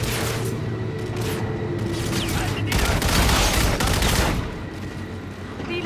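Call of Duty: Infinite Warfare gunfire, dense bursts of rapid automatic shots with booming reports, building to a loud sustained volley before easing off, with faint talk beneath.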